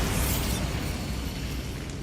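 The Bombarda explosion spell in the Hogwarts Legacy video game sets off a broad, roaring burst. Its loud rumbling wash holds steady for about two seconds before thinning slightly.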